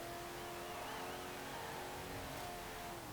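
A car with a larger engine accelerates in Forza Horizon 4, a steady droning engine note rising gently in pitch and held at a constant loudness, with no voices over it.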